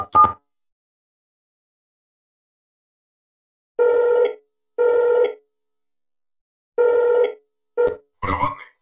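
Telephone keypad tones in a Russian Half-Life 2 mod: a brief tone, a pause, then a series of loud, clear dialing beeps in short bursts, alone without speech.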